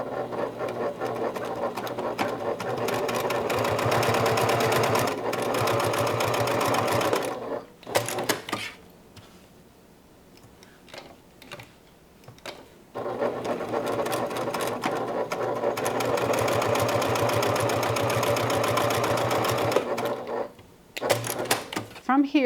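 A sewing machine runs in long steady bursts while top stitching fabric from the right side, loud and continuous for several seconds, pausing briefly around the middle before starting up again, with a few short clicks near the end.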